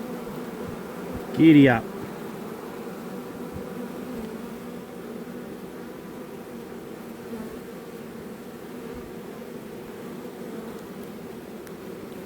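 A honeybee swarm fills the air with a dense, unbroken buzzing drone that holds steady throughout, with a short spoken phrase near the start.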